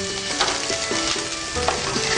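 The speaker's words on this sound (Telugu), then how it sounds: "ఇక్కడ వచ్చేసి పనీర్ ఫ్రై అవుతుంది తవా మీద" Paneer sizzles and fries on a hot tawa while onions cook alongside for tawa paneer masala, a steady close crackling hiss with occasional stirring scrapes, no voices.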